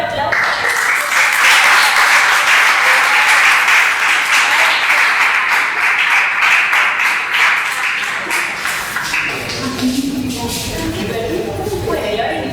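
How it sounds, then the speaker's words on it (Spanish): Audience applause at a final project defense presentation: dense, steady clapping for about nine seconds, then thinning out into murmuring voices. "le damos un fuerte aplauso"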